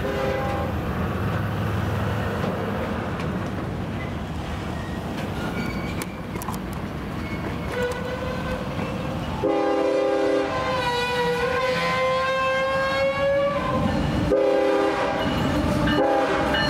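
CSX southbound freight train rolling past on the CE&D Subdivision, a continuous rumble of wheels and cars, with a loud multi-tone horn sounding in long blasts during the second half.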